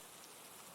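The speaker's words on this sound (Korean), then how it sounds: "빗소리에 눈을 떴다." Steady rain drums on a roof above a bedroom ceiling, a dense, continuous patter that stays even and close throughout with no voices.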